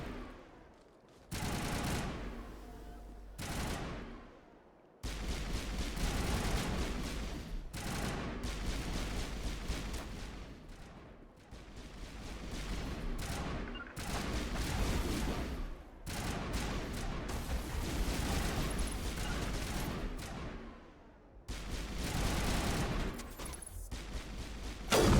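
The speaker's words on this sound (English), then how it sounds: "Manovai is under coordinated crossfire." Gunfire crossfire in the video game Mass Effect erupts in dense, sustained bursts of automatic weapon fire, loud and close, broken by brief lulls between volleys, with no talking.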